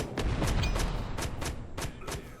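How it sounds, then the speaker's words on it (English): Grenade explosions in the VR shooter Plastic Battlegrounds VR, a rapid string of about eight sharp blasts and thumps in close succession, loud and dense with no talk. "You can just go bananas with the grenades."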